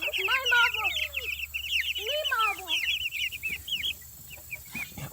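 Chickens in a coop clucking and squawking close by, with a busy layer of higher bird chirps over a low hum; a voice is briefly heard.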